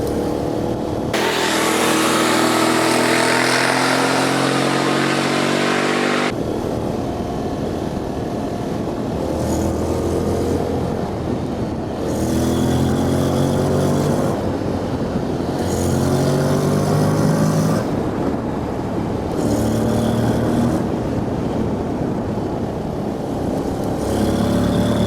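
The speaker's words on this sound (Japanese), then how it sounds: "ちょっとこの左手のスイッチボックスでギアを落として2速にしてみます。" A Honda X-ADV motorcycle's engine climbs an uphill road after a downshift into second gear, droning loudly and steadily with a burst of louder revving early on, and no talking over it.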